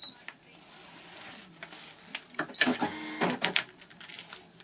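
A Brother ScanNCut 2 scrapbook cutting machine runs close up, giving short bursts of mechanical whirring and clicking that build toward the end after a quieter start.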